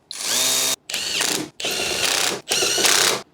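Ratchet tightening the engine mount bolts on a Mazda 2 with 240,000 km, in four rapid clicking bursts of nearly a second each with short pauses between them, close and loud, with no voices.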